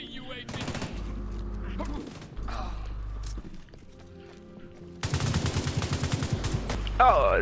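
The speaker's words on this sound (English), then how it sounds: "Look, I will come close with my rifle and use it like it's a shotgun." Rifle fire in The Division 2 video game, several rapid bursts of close, loud shots with pauses between them and a dense volley near the end.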